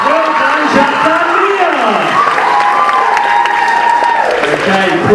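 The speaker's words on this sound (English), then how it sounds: "We give a big round of applause as they leave the stage." Audience applause and cheering at a university Strictly dance show as dancers leave the stage, a dense, steady wash of clapping with whoops, while a voice talks over it.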